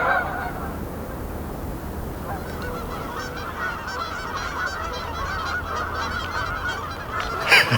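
Many Canada geese honk in a steady, somewhat distant chorus at night, calls overlapping constantly over a noisy outdoor background.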